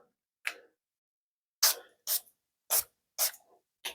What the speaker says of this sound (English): So gonna start out, a couple of sprays there